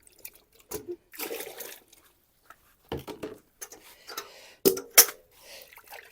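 Tomato seed pulp is poured into a container of clean water, making quiet, scattered splashes and short gurgling pours separated by near silence, close by and soft.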